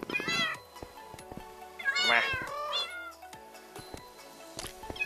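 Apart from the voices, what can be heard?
cat meowing in the video game Minecraft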